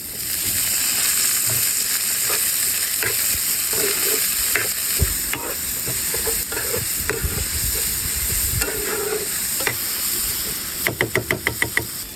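Chopped onion and tomato frying in a pan for pasta, with steady loud sizzling under occasional spoon scrapes and knocks, then a quick rapid series of taps near the end.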